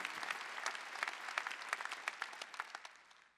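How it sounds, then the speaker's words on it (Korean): A congregation bursts into applause during a church sermon. The clapping is dense and fairly distant, then thins into a few scattered claps and fades out. "박수야."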